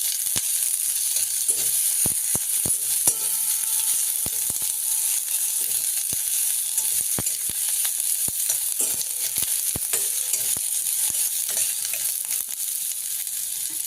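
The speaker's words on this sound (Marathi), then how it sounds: "कांद्याला कलर येईपर्यंत आपण चांगला भाजून घ्यायचा" Onions fry in oil in a pan with a steady, bright sizzle, broken by repeated soft scrapes and taps of stirring throughout.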